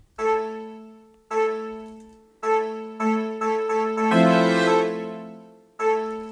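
A synth tone built from a vocal sample and a Drift synth, with a vocal-like timbre, plays several sustained notes, each starting with a swell, one held longer and brighter, alone.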